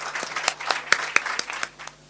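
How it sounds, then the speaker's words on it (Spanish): Audience applause at a political representation seminar, a steady patter of claps with a few sharper individual claps standing out, moderately loud and without talk. "Un aplauso, por favor."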